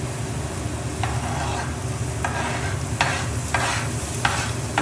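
Onions frying in a pan for a home-cooked meal: a steady close sizzle with the periodic scrape and swish of stirring, no one talking.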